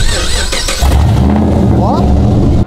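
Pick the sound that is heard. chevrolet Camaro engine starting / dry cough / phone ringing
chevrolet Camaro engine starting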